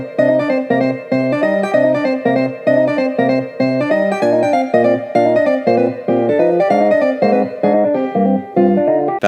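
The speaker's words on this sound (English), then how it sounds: "So anyway, I found this piano," Sampled piano plugin playing a steady, busy chordal pattern in the style of a video game soundtrack, loud and continuous with a regular rhythmic pulse and no talking.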